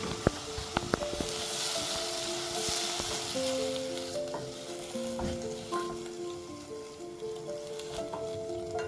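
Meat frying in a pan with salt and seasoning, a steady soft sizzle with occasional stirring scrapes and faint clinks, continuous throughout with no talking.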